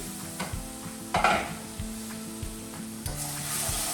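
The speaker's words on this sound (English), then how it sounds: "This is the part of my spinach cooking where I'm not trying to burn it" Spinach cooking in a pan over lowered heat, a steady soft sizzle running throughout with repeated scraping stirs of a utensil against the pan and one louder clatter near the middle.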